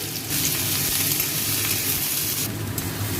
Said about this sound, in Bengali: তেলটা গরম হয়ে গেছে, ফোড়নটা আমি দিয়ে দিচ্ছি সব। পেঁয়াজ দিয়ে দিচ্ছি।